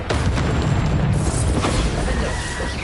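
The Bombarda blasting spell goes off in Hogwarts Legacy as a loud, dense explosive boom and rumble that fills the moment and then trails off, with no speech over it.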